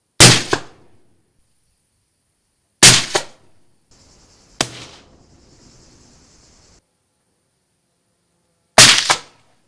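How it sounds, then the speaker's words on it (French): Four sharp suppressed gunshots from silenced firearms fired at a range, spaced a few seconds apart, each a loud crack with a short decay, and a faint mechanical hum between the second and third shots. "après avoir tiré plusieurs boîtes de balles avec chacun de ces silencieux"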